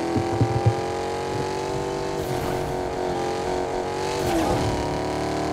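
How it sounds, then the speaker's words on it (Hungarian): A car engine in a Fortnite-style video game roars and revs continuously, loud and steady with rising strain, with no talk over it. "Rendes bőg a motor, az meg alig megy."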